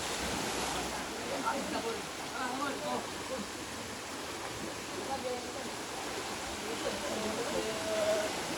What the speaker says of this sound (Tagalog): Ganda ng background of falls. Mini falls.